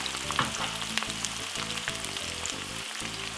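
Vegetables for a Jamaican salt fish fry-up frying in oil, a steady close sizzle with crackling spits and faint stirring over a low hum, with no voices.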